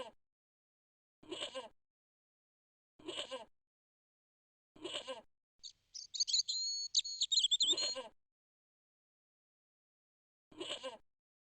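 A goat bleats repeatedly in the Broken Sword video game: short nasal bleats spaced a couple of seconds apart, with a longer wavering, high-pitched cry in the middle, all heard alone against silence.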